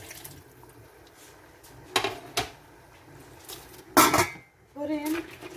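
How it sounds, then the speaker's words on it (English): Potatoes go into a pot of yellow split pea soup, clinking and clattering against the metal in a few sharp knocks, then water pours in with a short splashing gurgle near the end. "Put in our potatoes with some more water."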